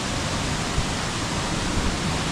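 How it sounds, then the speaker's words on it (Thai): A waterfall near a homestay in Nan province, Thailand, pours in a steady, loud, unbroken rush of falling water with no voices. "มาถึงน้ำตกแล้วทุกคน"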